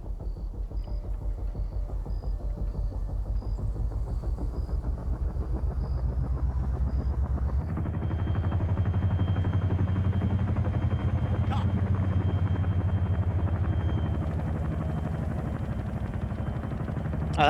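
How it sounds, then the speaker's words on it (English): Heavy Chinook helicopter rumble from a video game, a steady loud drone that grows deeper and stronger partway through as it lifts off, with a brief sharp click near the end. "Chinook lifting."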